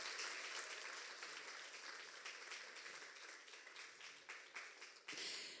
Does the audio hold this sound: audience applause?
yes